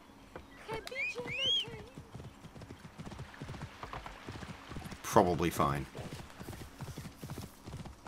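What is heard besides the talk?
horse hooves clip-clop in video game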